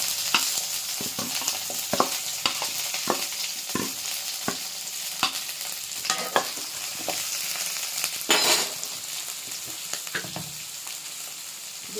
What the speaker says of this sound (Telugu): బాగా చిట్టపట్టిలాడిన తర్వాత ఆనియన్స్, పచ్చిమిరపకాయలు వేసుకున్నాం.